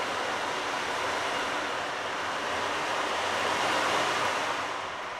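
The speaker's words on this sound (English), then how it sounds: "It's an ocean drum. Right here" Beads rolling inside an ocean drum make a gentle, continuous surf-like wash that builds to a fuller swell near the end and then recedes, with no talking.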